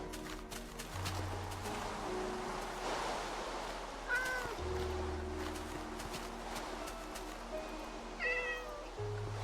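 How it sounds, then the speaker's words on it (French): A cat in a video game meows twice, short high calls spaced a few seconds apart, over steady background hum and low rhythmic thumps. "il y a un chat en fait, c'est pour ça depuis le début ce bruit"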